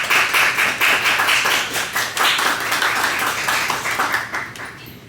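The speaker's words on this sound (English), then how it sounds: "Without further ado, please make an applause for Julie." Audience applause for a speaker being introduced at a talk, sustained dense clapping from a crowd in a room that holds steady for several seconds and then begins to fade.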